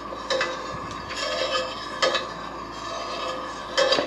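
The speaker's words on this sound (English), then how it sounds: "I'm going to be stirring this as it comes up to temperature as not to scald the milk on the bottom of the pan" Milk being stirred in a pan as it heats for garlic and chive goat cheese, with soft scraping and light clinks of a utensil against the pan at irregular intervals, fairly quiet and close.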